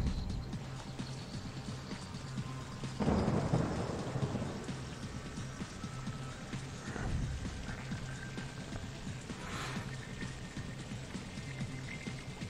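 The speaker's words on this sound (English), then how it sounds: "Because of a thunderstorm now" Thunderstorm in the park-building game OpenRCT2: steady rain throughout with a loud thunder crack near three seconds and softer rumbles later, no voices.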